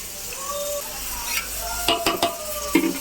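Mutton is stirred with masala and yogurt in a pot for biryani, a wet sizzling bed under scraping spoon strokes and several clustered metal clinks toward the end, close and fairly loud without speech.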